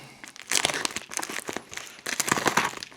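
Packaging of a Yongnuo YN360 III light unwrapped slowly by hand, giving close crinkling and rustling bursts of plastic and paper in two clusters with a brief lull between, no talk.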